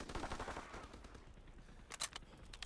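Gunfire in a World War II game during ranked team play: a burst of rapid shots early on, quieter for a stretch, then a sharp loud pair of cracks near the end, with no voices.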